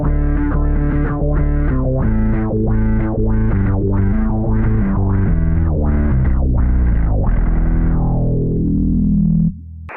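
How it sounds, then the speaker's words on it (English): Bass guitar run through an octaver preset into a wah pedal plays a steady series of swelling, filtered notes, each one sweeping open and closed in a regular rhythm, loud and alone, before a final note rings out and cuts off. "I just used like an octaver preset and I put it into the wah, and here's the kind of the sound you get with that."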